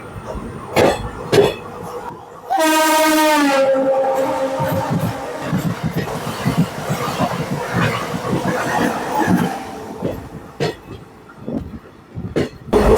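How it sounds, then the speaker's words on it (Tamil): A passenger train runs between Erode and Mettur Dam with a rumbling, clattering ride. A MEMU express running from Salem to Erode passes on the opposite track with a loud horn blast. Coughs and murmuring passengers sound nearby. "ஸோ இப்போ ஆப்போசிட்டில் நம்மளை கிராஸ் பண்ணி போச்சு இல்லைங்களா, சேலம்லேருந்து ஈரோடு வரையும் ரன் ஆகக்கூடிய அந்த மெமு எக்ஸ்பிரஸ்"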